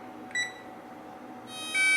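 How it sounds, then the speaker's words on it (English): Texecom alarm keypad exit tone: a short electronic beep, then a brighter high-pitched tone that starts late and grows louder, faint and close-miked in a quiet room. "which will then start the exit timer and tone"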